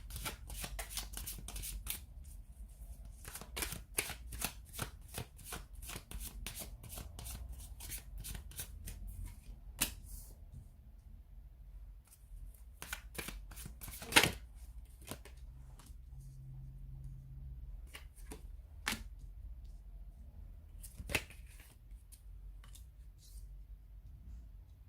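Tarot cards are shuffled by hand in a quiet room, a long run of soft, irregular riffles and taps with occasional sharper snaps and no talking.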